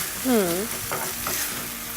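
Hot food is stirred in a single pot with olive oil for a Bolu-style dish, giving a soft scraping stir over a low sizzle, with a brief tonal sound near the start.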